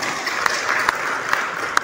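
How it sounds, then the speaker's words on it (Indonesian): A small audience at a regional small-business gathering gives a short round of applause, a dense patter with a few sharper individual claps standing out. "tepuk tangan."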